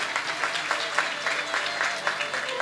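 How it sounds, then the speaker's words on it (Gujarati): An audience at a religious diksha ceremony claps in honour of a child's parents, giving steady, moderately distant applause with rhythmic bursts throughout and a faint crowd murmur. "એકવાર તાળીઓ સાથે એમના માતા પિતાને વધાવજો"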